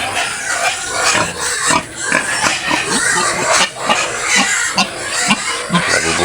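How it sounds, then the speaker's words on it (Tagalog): Several pigs, including sows, grunt and snort repeatedly at close range on a farm, overlapping in a loud, restless chorus. "Ito yung baboy namin dito"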